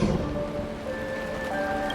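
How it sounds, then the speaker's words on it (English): Rain falling in the video game Honkai Star Rail, a steady hiss of rainfall under sustained tonal music for two seconds. "It's raining!"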